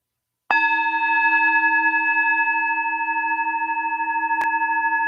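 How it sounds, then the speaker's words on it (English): A single bell is struck once and rings with a clear, sustained tone that slowly fades, with a faint knock partway through. "Allow everything to drop away as the sound of the bell fades."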